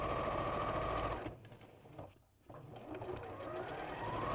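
A sewing machine stitches quilt squares in a fast, steady hum, pauses for a moment, and then resumes stitching over the thicker seams.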